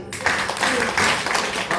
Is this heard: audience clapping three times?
yes